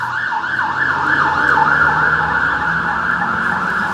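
An ambulance siren wails in a steady repeating up-and-down pattern, moderately loud and fairly close, with road and traffic noise underneath.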